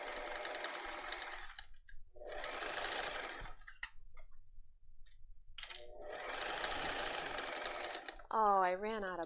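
A sewing machine stitches a leather strap on a messenger bag in three loud, fast bursts with pauses between, and a voice speaks near the end.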